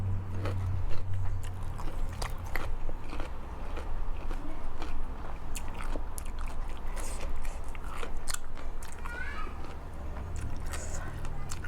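Close, continuous crunchy chewing and biting of fresh garden eggplant and cucumber eaten with fermented fish dip, steady and moist throughout, with faint background sounds.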